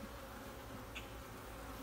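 Honeybees buzz as a dense, steady drone around an open beehive with full honey supers during a hive inspection, close and continuous with no talking.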